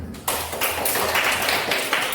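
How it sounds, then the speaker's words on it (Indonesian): A classroom applauds a student group after their presentation, a dense continuous wash of many hands clapping close by, steady and fairly loud throughout after a brief quiet start. "Mari kita berikan aplaus yang meriah untuk kelompok 1."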